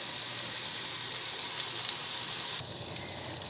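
Linguiça calabresa and bacon frying in a pan give off a steady, dense sizzle that continues without a break, close and fairly loud, with no talking.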